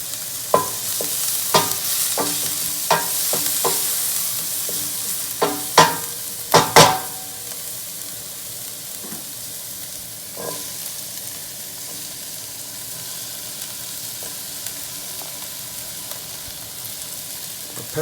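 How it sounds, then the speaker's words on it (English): Peppers frying in a pan over a high flame, a steady close sizzle with a few sharp clattering stirs and scrapes early on, then a quieter continuous hiss. "We just want to cook it down a little bit."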